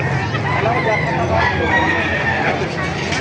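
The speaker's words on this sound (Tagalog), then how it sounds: "Ganda ng mga manok" Many chickens cluck and roosters crow together at a busy, noisy poultry market in Baliuag, Bulacan, with people talking faintly in the background.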